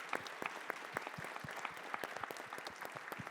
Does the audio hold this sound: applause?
yes